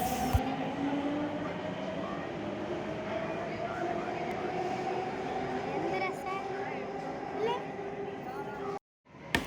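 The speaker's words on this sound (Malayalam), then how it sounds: "അപ്പം നമുക്ക് പോകേണ്ട ട്രെയിൻ വന്നിട്ടുണ്ട്" A Delhi Metro train rumbles and whines along the platform, its steady roar and squealing wheels filling the station, with voices faintly mixed in.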